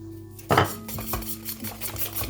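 Sugar is mixed into cassava cake batter in a bowl, heard as a sharp utensil clank on the bowl followed by a run of rhythmic scraping and tapping strokes.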